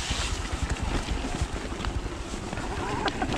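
A mountain bike on a winter bike park course plows through a massive puddle, with a steady wash of splashing water and wind rumble running throughout, close and loud, with no talking.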